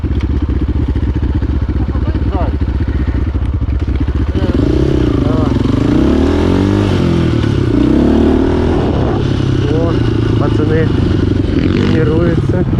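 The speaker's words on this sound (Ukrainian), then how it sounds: "мотори ревуть" Enduro motorcycle engines rev and drone steadily throughout at an off-road riding track, with rising and falling pitch as they accelerate, loud and nearby.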